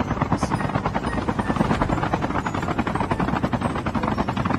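A helicopter in the COD Mobile battle royale mode flies nearby, its rotor sound a loud, dense, steady thrumming chop that stays constant throughout.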